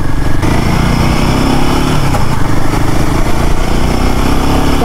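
A Royal Enfield Himalayan 450 motorcycle on a test ride, its engine running as a steady, loud, close drone with slight pitch shifts, heavy wind buffeting and no talk.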